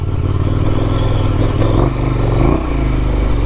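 An adventure motorcycle riding a rocky, hard-packed trail, its engine a loud continuous low drone with a slight throttle swell, mixed with rattling clatter from the terrain and wind rush.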